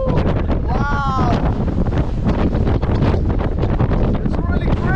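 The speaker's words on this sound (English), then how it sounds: "It's very windy actually." Strong, cold wind rushes across an exposed clifftop at the Gila Cliff Dwellings in New Mexico, roaring loudly into the microphone without pause while voices call out over it.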